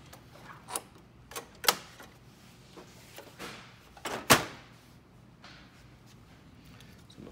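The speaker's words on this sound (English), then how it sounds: "Close the door." A Xerox C60/70 or 550/560/570-series office printer door is pushed shut, with a few soft clicks and handling knocks leading up to one sharp latching thud, followed by quiet rustling.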